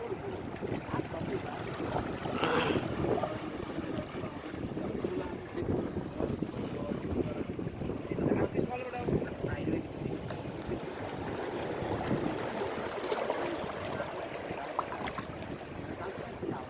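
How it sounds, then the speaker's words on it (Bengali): Wind-driven sea waves at Cox's Bazar wash steadily against the shore with rocks nearby, a continuous broadband roar mixed with gusty wind buffeting the microphone, fairly loud and unbroken throughout. "পানির ঢেউ"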